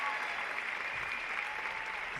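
An audience at a Grand Prix figure skating short program in Sheffield applauds a skater's return to competition, a steady, faint wash of clapping from a distant arena crowd.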